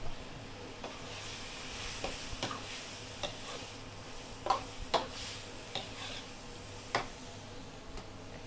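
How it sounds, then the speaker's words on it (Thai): Beef being stir-fried with oyster sauce in a wok: steady sizzling under irregular scraping and clinking of a utensil against the pan, with several louder taps. "ส่วนกระทะนี้ อันจะผัดอ่าเนื้อน้ำมันหอยค่ะ"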